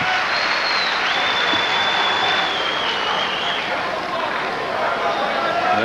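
Packed crowd filling both sides of a wrestling gym at Liberty's Memorial Gym during a Nazareth versus Northampton match, a steady loud roar of cheering and clapping throughout with voices mixed in.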